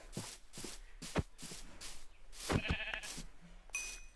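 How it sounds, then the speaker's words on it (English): Sheep bleat in the video game Minecraft over a run of rhythmic footstep-like thuds and shuffles, with one clear bleat partway through. "I think we can just get these couple of sheep."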